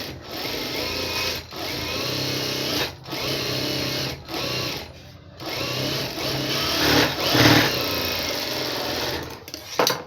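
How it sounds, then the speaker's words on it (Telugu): A sewing machine runs in steady bursts stitching the lining cloth of a plain blouse, a close mechanical whirring hum with brief pauses between runs. "ఈ సీదా వైపున తిప్పుకొని ఇప్పుడు ఈ చివరన మనం కుట్టు అనేది వేసేసుకోవాలి."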